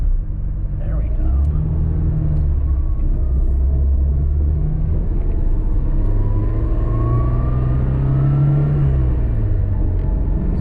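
A classic 1960s Volvo P1800 cruising with little sound deadening, its mid-pitched engine droning and rising steadily up close, with a voice talking over the engine throughout.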